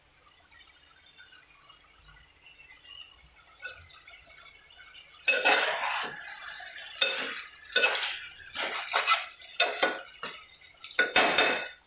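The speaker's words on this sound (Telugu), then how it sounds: "మూత పెడుతున్నాను." A metal lid placed on a cooking pot of chicken curry after coriander and mint go in, giving a series of close, bright clanks and clinks of metal against metal after a quiet start.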